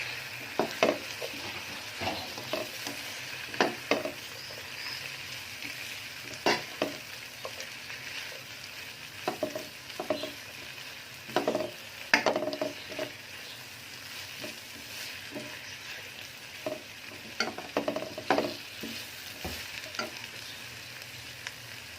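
Capsicum and mixed vegetables stir-fried in a hot pan for chicken fried rice, with steady frying sizzle punctuated by frequent sharp clatters of a spatula against the pan, close and continuous.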